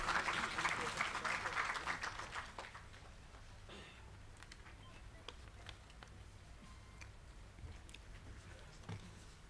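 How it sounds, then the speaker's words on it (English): Conference audience applauding a presenter at an education summit session, a dense burst of clapping loud at first, fading after about three seconds into a quiet hall with faint scattered sounds. "Please welcome her for the presentation with a round of applause."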